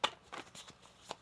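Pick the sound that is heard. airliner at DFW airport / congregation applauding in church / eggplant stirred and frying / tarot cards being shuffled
tarot cards being shuffled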